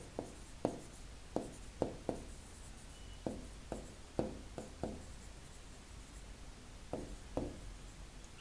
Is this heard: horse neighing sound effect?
no